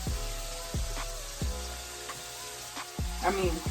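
Plantain frying in grapeseed oil over high heat makes a steady, fairly quiet sizzle that runs throughout, with a few faint clinks and tonal sounds from the kitchen mixed in.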